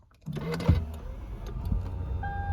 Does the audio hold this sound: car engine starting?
yes